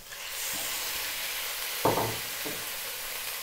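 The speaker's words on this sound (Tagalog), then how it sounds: "Tapos po, i-add na po natin yung ating baboy" Pork hits a pan of sautéed garlic and onion for Filipino pork mechado, giving a soft steady sizzle with a couple of brief stirring scrapes, fairly faint and without speech.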